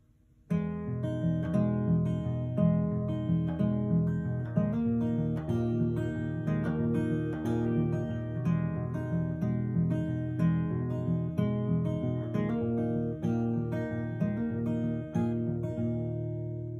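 A guitar plays a steady strummed and picked passage from a song alone, full and sustained with a regular rhythm, no voices throughout.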